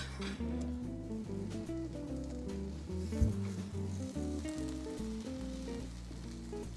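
Egg whites sizzle steadily in a frying pan with cilantro, a close, soft hiss that runs throughout with a brief clatter midway.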